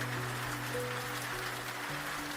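Steady rain falling as a continuous, even hiss, with faint sustained tones underneath and no talking.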